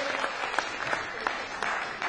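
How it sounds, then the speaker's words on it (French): Audience at a Haitian comedy festival in Paris applauds, dense steady clapping from a crowd filling the whole moment. "on applaudit"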